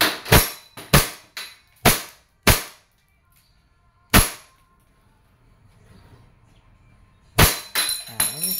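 A WE 2011 Hi-Capa T-Rex airsoft pistol fires on semi-auto: sharp, loud, close cracks, first five in quick succession, then a single shot, a quiet gap, and a final few shots.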